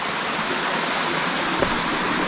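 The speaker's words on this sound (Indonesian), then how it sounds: "Ini airnya mengalir jernih banget tuh." Steady, full rush of a small, clear river flowing below hills near a hidden cave, close and continuous with no voices.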